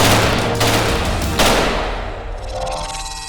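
An HK 416 rifle fires a rapid burst of loud, sharp shots, with a couple of distinct reports standing out before the echoing gunfire fades away.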